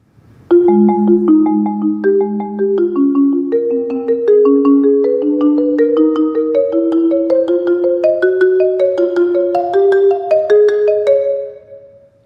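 Mallet percussion plays an even, steady stream of ringing notes in a gradually rising pattern, bright and close, with no talking.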